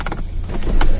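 An electric motor whirs briefly as the roof of a Seat Leon is opened, a short, close mechanical hum with a few clicks and a sharper knock near the end.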